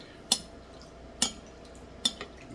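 A metal spoon handled at a workbench during a water-damaged Audi C5 A6 4.2 TCM repair: three quiet, separate clinks spread across a hushed background.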